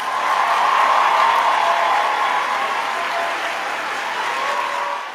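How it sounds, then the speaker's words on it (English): A loud, steady round of applause from many hands fills the space with dense, even clapping, holding strong before easing off slightly toward the end. "you are going to get a round of applause"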